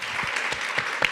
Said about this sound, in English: I would like to ask a warm hand of applause for our panelists